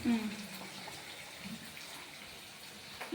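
Cabbage is washed in water in a home kitchen, with a steady, moderately loud splashing and running-water wash continuing throughout.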